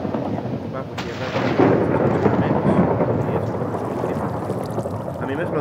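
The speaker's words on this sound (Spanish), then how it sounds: "Sí, estamos en plena tormenta." A thunderstorm rumbles in Minecraft, with a low crack of thunder and a continuous dense wash of rain noise, loud and steady throughout.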